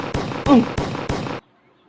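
Four sharp, evenly spaced bangs like a popping burst of firecrackers sound close and loud, each with a brief ringing tail, then sudden silence. They stand in for a grenade exploding in a game.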